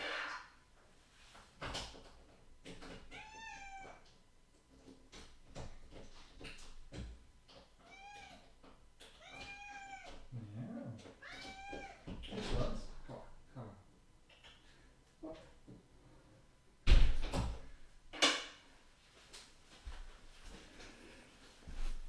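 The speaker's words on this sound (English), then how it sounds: "I'm gonna let my cat out real quick." A house cat meows several times in drawn-out, rising and falling calls as it is let out of a door indoors, followed by a loud door clunk and rattle near the end.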